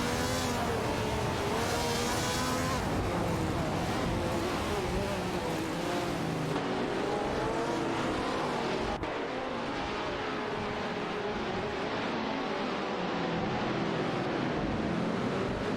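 Ferrari 312 and Honda RA 300 race cars roar through a racing video game, their high engine whines rising and falling continuously as cars pass and shift.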